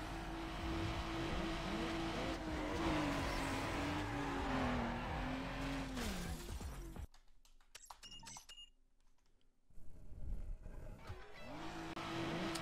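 Car racing at full throttle in the video game Need for Speed Underground, a loud sustained engine with rising pitch sweeps, tire squeal and an abrupt cut to near silence midway before the engine roar returns.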